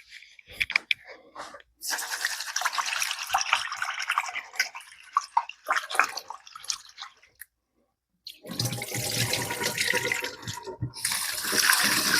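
Rice being washed under a running kitchen tap, with steady splashing water broken by short gaps, grains swishing and crunching, and a louder gush near the end.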